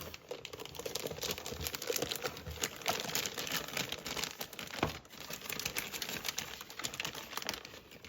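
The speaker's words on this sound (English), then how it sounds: "Let's open the box." Cardboard box for a G.T. Power TD610 Pro touchscreen balance charger being opened, with continuous close crinkling and rustling of plastic packaging, light taps and scrapes, no talking.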